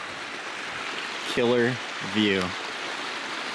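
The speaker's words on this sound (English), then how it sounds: "we've got this nice little river coming down here" A small mountain river rushes steadily beside a pond, a continuous broadband wash of flowing water heard close, with a voice speaking briefly twice over it.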